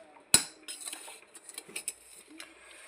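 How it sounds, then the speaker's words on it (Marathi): Green chillies and coriander rattle inside a mixer grinder jar as it is shaken by hand: one sharp knock, then scattered light clattering and tapping, close and fairly quiet, with no talking. "बघा मिक्सरला फिरवून अजून झालेलं नाही, त्यासाठी बघा असा हलवावं लागतं."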